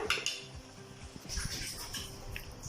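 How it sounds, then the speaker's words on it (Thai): A utensil scoops stir-fried ham and zucchini out of a pan, with soft clinks and scrapes of metal against the cookware, faint and close in a quiet kitchen. "ก็ตักส่วนของผมออกก่อนนะครับ"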